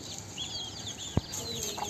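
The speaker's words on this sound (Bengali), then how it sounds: "এই যে মুরগি" Chickens cluck softly in a village yard while foraging, a few brief, faint calls with a sharp knock partway through and no talk.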